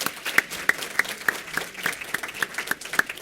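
A small audience gives a panel a round of applause after a lunch-and-learn talk on women's suffrage. The claps are scattered and fairly sparse, with distinct individual hand-claps popping out of a soft, moderate patter.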